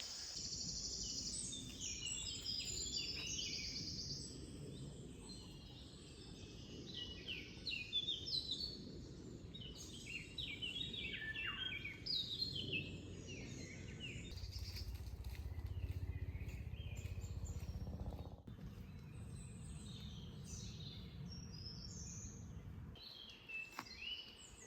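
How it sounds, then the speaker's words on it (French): Birds sing outdoors on a warm summer day, with overlapping chirps and trills at moderate distance, steady throughout with faint insect buzz beneath, no talking. "ça fait du bien d'entendre les oiseaux"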